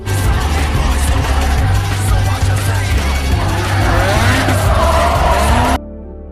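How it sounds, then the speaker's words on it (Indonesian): A Nissan Skyline drifts in a street-racing film scene, its engine droning loud and steady while tires squeal and skid across several seconds before the sound cuts off abruptly. "Han lalu pergi membawa Sean dan unjuk kebolehan di depan cewek yang berada di dalam mobil Skyline."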